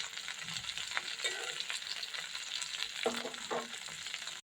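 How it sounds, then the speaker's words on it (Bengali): Hilsa fish frying in oil on a stove, a steady broadband sizzle with occasional utensil clinks, close and fairly even throughout, no talking. "তাহলে চুলায় ইলিশ মাছটা ভাজা বসিয়ে দিই।"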